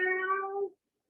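A single human voice imitates a cat's meow in one drawn-out, clear tone lasting under a second, then silence, during a seated stretching exercise class.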